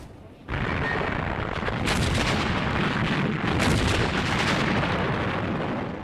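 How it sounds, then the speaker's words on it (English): Heavy British artillery fire in World War II North Africa, a dense, loud, continuous barrage of overlapping booms and blasts, unbroken for several seconds with no voices. "British artillery broke up the assault, and the panzers were quickly halted."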